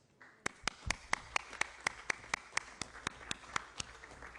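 Sparse, steady clapping at a Parliamentary Assembly standing committee meeting: roughly fifteen distinct sharp claps in an even rhythm, fairly close and isolated, like one or two people clapping in a quiet room.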